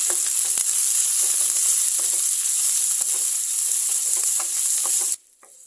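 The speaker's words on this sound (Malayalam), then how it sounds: "ഒന്ന് വഴറ്റിയെടുക്കാം." Ginger and curry leaves sautéing in a pan, with green chilli, for a dried fish curry: a steady loud sizzle with light scraping stirs, which cuts off abruptly near the end.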